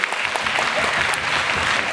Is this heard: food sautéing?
no